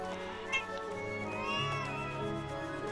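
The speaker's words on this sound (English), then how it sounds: "Cats meowing in agreement." Cats meowing in the video game Live A Live, several overlapping meows and drawn-out cries over a continuous background music bed.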